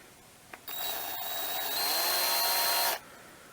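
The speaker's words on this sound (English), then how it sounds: "So I'm going to take this drill here." A power drill whines at high speed for a couple of seconds, its pitch rising slightly as it bites into wood, then cuts off.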